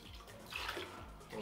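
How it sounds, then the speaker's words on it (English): Air bubbles gurgle out of water while a PC watercooling pump is being primed, a brief, faint bubbling burst in the middle of a quiet stretch of liquid noise. "All the bubbles coming out."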